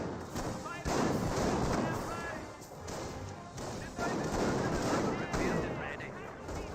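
Battlefield gunfire and artillery blasts from Company of Heroes, with a sniper among the shooters, come as dense, repeated broadband bursts and booms throughout, layered under a commentator's continuous talk.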